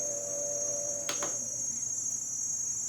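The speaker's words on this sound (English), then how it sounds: "the cicadas are still going on" A steady, shrill insect drone fills the jungle air, with a brief louder rasp partway through; cicadas buzzing continuously over a faint low hum.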